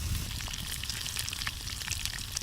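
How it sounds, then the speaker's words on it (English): Coated pieces of fish sizzle in hot oil over an open fire in the jungle, a loud, constant crackle with rapid popping spits and no voices. "I coated each piece of fish and dropped them into hot oil over the fire."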